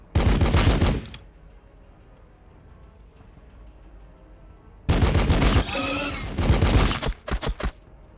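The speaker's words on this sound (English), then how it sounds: "Order confirmed. Firing on the target." Loud bursts of automatic unit gunfire in Warhammer 40000 Battlesector, one volley at the start and another longer one later that ends in a few short stuttering shots, separated by a quiet stretch.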